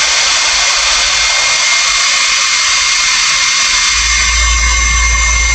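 A loud, steady blower runs during a wellness treatment aimed at the spine and head, a constant close whooshing drone that continues throughout without pause.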